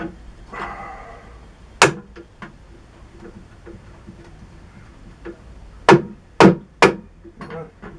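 A Jacobs 6A half-inch drill chuck on an Atlas 74 pillar drill being tapped back on with a light hammer: a few sharp metallic taps, one early and then a quick cluster of three near the end, close up over quiet workshop background.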